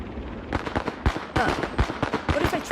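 A thrown firecracker going off in a riot video game, a quick string of sharp crackling pops and bangs in close succession, loud and near, over a busy background.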